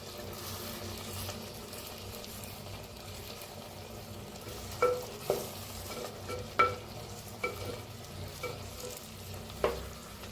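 Softening tomatoes being stirred in a pan over a low gas flame, a steady gentle sizzle broken by several scraping clicks of the spoon against the pan, close and without talk.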